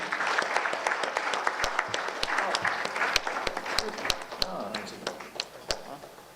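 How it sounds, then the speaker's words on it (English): An audience at a technical event in Sri Lanka breaks into a round of applause: dense, lively clapping with sharp individual claps that gradually thins out toward the end, with some voices mixed in. "Give a big round of applause,"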